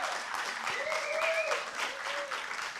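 Audience applause at a film screening and poetry circle event, a steady wash of clapping across the whole stretch, with a faint tonal whistle or voice rising briefly through it.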